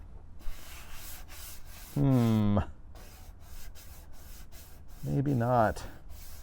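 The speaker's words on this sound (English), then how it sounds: "I guess right now I am wet sanding" Wet sanding the car body of a 1972 Plymouth Road Runner: a steady, gritty rubbing scrape runs close and continuous throughout, while a person briefly speaks twice over it.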